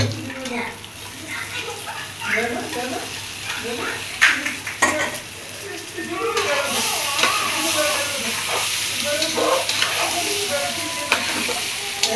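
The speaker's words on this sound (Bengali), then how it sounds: "দুজনে এখন মাংসটা মিলানো হচ্ছে" Beef being stirred and mixed in a pot for tehari, with continuous sizzling and scraping and a steady hiss that grows louder midway, while people talk over it.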